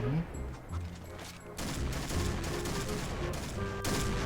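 Machine gun rattling rapidly in the shooter game Point Blank, a fast continuous burst of close, loud shots after a short quieter opening, with a voice talking over it.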